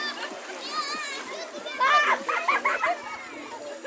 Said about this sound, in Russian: покажи, как ты плаваешь